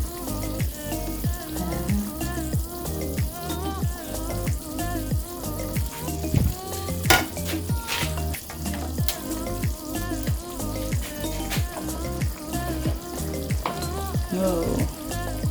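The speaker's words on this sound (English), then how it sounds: "so we'll just make it simmer for a while." Chicken curry with coconut milk simmers in a pot, giving a steady bubbling and crackling with rapid small pops, close and continuous throughout.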